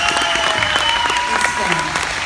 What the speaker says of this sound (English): One more time, a round of applause for our new student veterans.